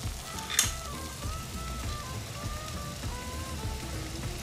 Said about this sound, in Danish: Op og koge!